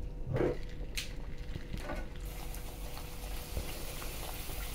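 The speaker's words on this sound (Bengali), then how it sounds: "লুচিগুলো ফটাফট বেলে ভাজতে শুরু করলাম" Luchi, small rolled-out wheat breads, sizzle in hot oil in a home kitchen: a soft, continuous bubbling hiss with a few sharper spatters, quiet and close, with no talking.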